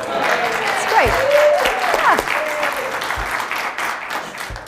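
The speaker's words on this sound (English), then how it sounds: "Second row, politely claps, yes." Studio audience at a chat show claps steadily in a dense wash of applause, with a few scattered louder hand claps standing out and faint voices mixed in underneath.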